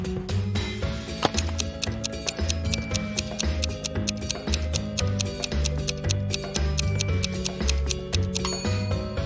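A clock ticks in a steady, even rhythm of sharp, close clicks that run through the whole stretch, with a low repeating hum beneath and no voices.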